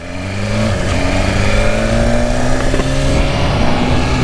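A new faired BMW motorcycle rides out of the dealership, its engine revving loud and close with rising and falling pitch over a steady roar, and someone briefly speaks over it.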